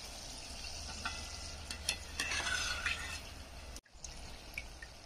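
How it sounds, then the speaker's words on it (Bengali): Palm pitha fries in a pan of oil over medium heat, with a continuous sizzle, light bubbling and a few clinks and scrapes of the utensil close by, then a brief dropout. "সাইড দিয়ে ভাজছি আর এক সাইড দিয়ে দিচ্ছি"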